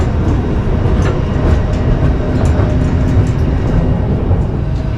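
The White Pass scenic railway train at Skagway, Alaska rolls along the tracks with a loud, steady rumble and faint rhythmic clatter of wheels, heard from on board without any talk.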